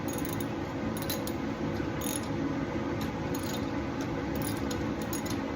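A 13/16 socket on a ratchet working the spark plug out of a Yamaha PW50 barn-find minibike, with rough-feeling threads; steady close mechanical clicking and grinding runs throughout with no talking.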